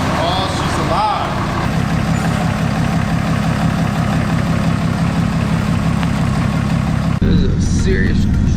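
A 2017 Ram pickup idles steadily with a deep, even engine thrum that carries the whole time, fitted with 4.56 gears and AAM differentials, and a brief voice and a change in the sound come near the end.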